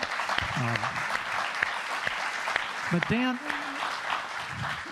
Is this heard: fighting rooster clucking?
no